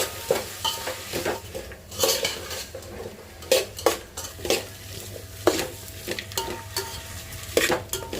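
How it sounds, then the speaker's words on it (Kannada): Vegetables fry in a pan for a tomato-based veg pulao, with repeated metal scraping and clinking of a spoon stirring against the pan at an irregular rhythm, over a steady low sizzle, close and with no talk. "ನಾನು ಇದಕ್ಕೆ ವೆಜಿಟೇಬಲ್ಸ್ ಆ್ಯಡ್ ಮಾಡ್ತಿದ್ದೀನಿ. ಚೆನ್ನಾಗಿ ಫ್ರೈ ಮಾಡಬೇಕು."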